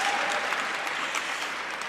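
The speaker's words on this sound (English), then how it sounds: "Can he get a round of applause?" Guests at a charity tribute gala give a round of applause, a full, continuous patter of many hands clapping at moderate loudness, steady throughout with no talking.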